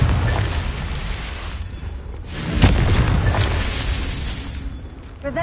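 Confringo blasting curse explosion in the video game Hogwarts Legacy, a deep booming burst with a sharp crack midway, set against rumbling low-end game sound.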